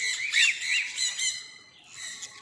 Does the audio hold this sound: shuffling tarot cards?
no